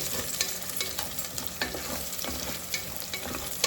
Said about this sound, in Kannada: ಎಲ್ಲ ಸ್ಪೈಸಸ್ಸು ಹಾಕ್ಕೊಳ್ಳಿ. ಇದೆಲ್ಲ ಹಾಕ್ಕೊಂಬಿಡಿ. ಹಾಕ್ಕೊಂಡು ಸ್ವಲ್ಪ ಹುರ್ಕೊಳ್ಳಿ.